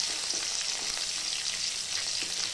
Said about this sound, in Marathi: तो पण छान तेलामध्ये चांगलं त्याची फ्राय करून घ्यायचा